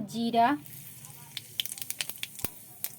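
Cumin seeds spitting in hot oil left over from frying bananas, sharp scattered crackles and pops after a short vocal sound at the start, close by.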